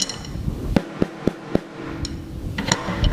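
A snare drum with its snare wires switched on is struck several times in quick succession, sharp buzzy cracks standing out above a muffled, noisy room.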